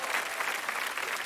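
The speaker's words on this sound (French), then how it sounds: "on peut les applaudir" Brief burst of steady audience applause for a choir of 500 singers at a musical theatre special, dense and even clapping with no voices.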